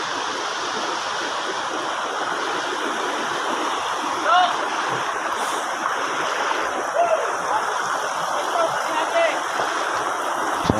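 A shallow, rocky stream in Negros Occidental flows in a steady, close babble of water over stones, with small splashes now and then and voices faintly present.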